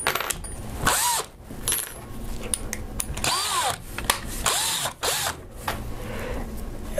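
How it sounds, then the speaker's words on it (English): Power drill boring holes with a 1/4 inch bit while building a multi-color T-shirt printer, a loud close whine that rises and falls in pitch through several short bursts as the bit cuts. "first I drilled one hole all the way through"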